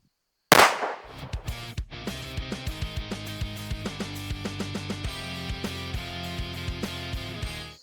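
A single sharp, loud gunshot from a PX-5.7 Raptor 5.7 round fired into bone cracks out near the start, then steady rhythmic music with regular beats carries on to the end.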